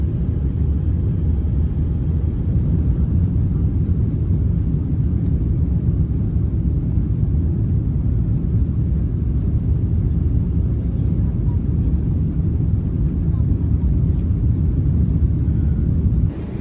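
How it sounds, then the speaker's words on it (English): EVA Air Boeing 777-300ER taking off, heard from inside the cabin as a loud, steady low engine roar and rumble that holds evenly throughout. "So here's just a quick shot of the takeoff."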